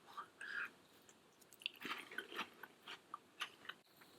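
Quiet, close crunching and chewing sounds come in a loose rhythm, soft bites on small crisp biscuits from a Jordanian ration pack, with faint whispery mouth noise.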